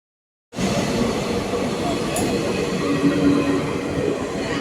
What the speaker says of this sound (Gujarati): જો અમારી ટ્રેન આવે જ છે સામેથી